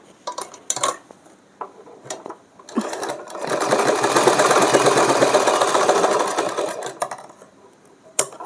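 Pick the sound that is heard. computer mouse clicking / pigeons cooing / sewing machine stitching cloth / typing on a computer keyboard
sewing machine stitching cloth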